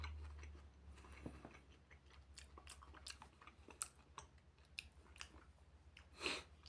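Close, quiet chewing and crunching of a KitKat Hazelnut chocolate bar, with irregular soft bites and clicks over a low steady hum, and one sharper crackle near the end.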